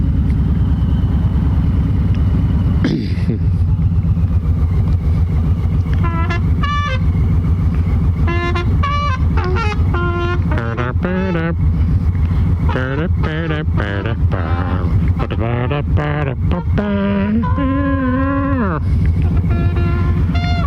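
A 2020 Harley-Davidson Low Rider S cruises through city streets, its steady engine rumble blending with constant wind buffeting the microphone, while higher wavering tones rise and fall over the drone.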